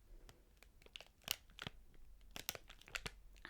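A biscuit wrapper crinkles and tears in short, sharp bursts, recorded close and quietly in an ASMR setting. Scattered crackles and crunches are spread irregularly over a few seconds with no talking.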